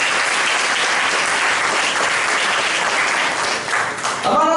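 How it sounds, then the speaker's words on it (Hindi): A church congregation at a Friday youth meeting claps loudly for Jesus Christ, a dense, sustained roar of applause close by that thins slightly near the end as a voice begins. "आज की रात हम पुनः फिर से यीशु मसीह के लिए जोरदार ताली बजाएंगे"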